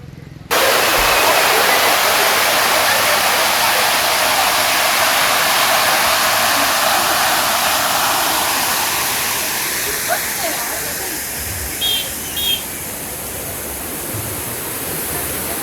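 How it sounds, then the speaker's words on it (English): A waterfall in the Baba Budangiri hills of Chikmagalur, Karnataka, roars as a steady broadband rush that stays loud for the whole stretch, with a faint voice and a few brief clicks near the end. "see there's a waterfalls in the side"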